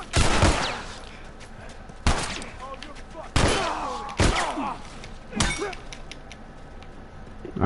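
Loud, close gunshots from The Last of Us come as about five separate heavy blasts spaced a second or two apart, each leaving a short ringing tail and clattering debris.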